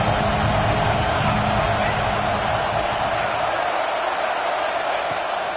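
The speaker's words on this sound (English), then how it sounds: "how nice is it to have the home crowd going absolutely bananas" A home stadium crowd in College Football 26 roars steadily, a dense, sustained wash of cheering noise filling the background, loud and unbroken.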